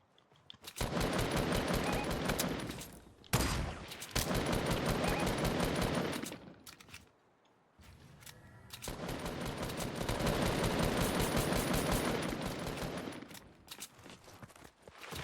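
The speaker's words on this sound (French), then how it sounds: "Riquette, quand tu tires, protège-toi parce qu'à chaque fois tu te prends des putains de balles pour rien" Rapid automatic gunfire from the video game Fortnite rattles in long, loud bursts, broken by a couple of short pauses, with no talk over it.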